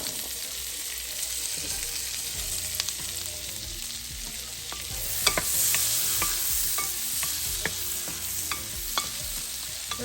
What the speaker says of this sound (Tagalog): Lulutuin lang natin ang onion.